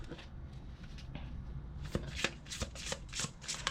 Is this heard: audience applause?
no